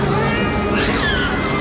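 A cat in the video game Alone in the Dark gives one drawn-out meow, fairly close, over a dense, noisy game soundscape.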